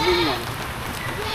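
A goat bleats once, briefly and close, on a farm during rain. The bleat sits over a steady hiss of rainfall, and a fainter second call follows.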